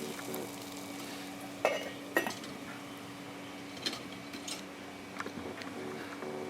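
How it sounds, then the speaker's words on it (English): Water boiling in a pot on a fan-forced stainless steel woodgas camping stove, a low steady bubbling hiss with a fan hum underneath and a few sharp metallic clinks and taps. "it's quite clearly boiling now"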